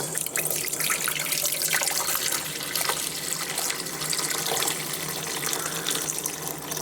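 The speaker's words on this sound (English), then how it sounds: "let's pour our juice off." Cooking juice from an Instant Pot beef roast pours steadily in a continuous splashing stream for several seconds, close and fairly loud.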